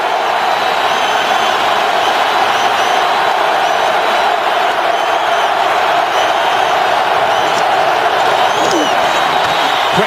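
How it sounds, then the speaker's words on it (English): Packed football stadium crowd at Heinz Field in Pittsburgh, Browns at Steelers in 2011, roars in a loud, dense, sustained wall of cheering and shouting on a third down, with a broadcast voice faintly beneath. "the crowd is going to be in full chorus right now for Colt McCoy"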